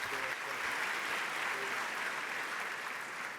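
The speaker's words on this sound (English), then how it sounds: "Let's give the CNO and the Secretary a big round of applause." Sustained applause from a large crowd at a Navy League luncheon, steady dense clapping filling the room for several seconds with no voices over it.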